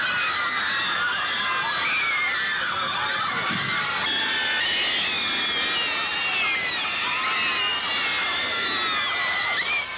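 A large crowd of young Beatlemania fans waiting in the rain keeps up a dense, continuous, high-pitched mass of screaming and shrieking for the whole stretch, loud and unbroken.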